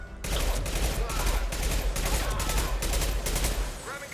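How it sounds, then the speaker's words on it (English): A concussive shot fired during combat in the video game Mass Effect 2, set among dense, continuous gunfire and explosions, with a sharp burst near the start and rumbling impacts throughout. "Firing concussive shot."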